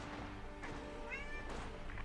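A pet cat named Basil meows in the background, two drawn-out rising and falling cries spaced about a second apart, moderately close over a steady low hum.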